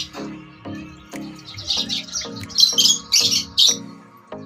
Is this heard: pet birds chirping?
yes